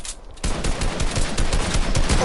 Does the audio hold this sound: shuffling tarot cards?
no